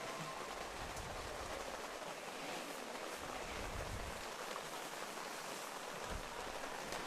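Steady rain pours down across an outdoor track meet, a dense, even hiss of drops on surfaces that holds constant throughout with wind gusting through it and no talking.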